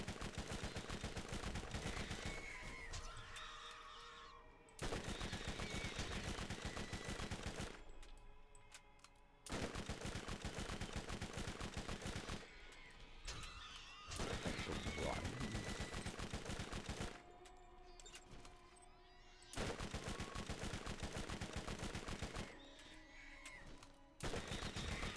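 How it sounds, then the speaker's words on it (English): Submachine gun fire from Borderlands, shot with squirrely rounds: loud, dense bursts of rapid automatic shots, cut by short gaps and repeated several times, with no voices. "Let's give you a good test for the SMG."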